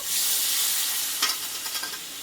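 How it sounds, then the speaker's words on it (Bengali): Ground cashew and poppy seed paste frying with spices in hot oil for a Bengali potato and pointed gourd curry, a steady loud sizzle with a few stirring scrapes toward the end. "এবার মশলাটার সঙ্গে ভালোভাবে কাজু পোস্ত বাটাটা আমি কষিয়ে নেবো"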